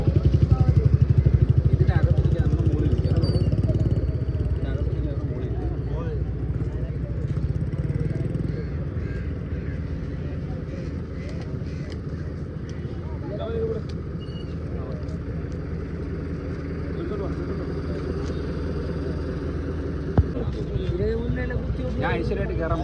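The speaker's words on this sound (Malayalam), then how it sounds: "അപ്പോൾ ഈ ബോട്ട് വന്നു. ഇതിപ്പോൾ ഇങ്ങനെ അടുപ്പിച്ചുകൊണ്ടിരിക്കുകയാണ്." A boat's engine drones steadily as it is brought alongside to dock in Lakshadweep, a continuous low rumble with wind buffeting the microphone, slightly louder at first and then settling.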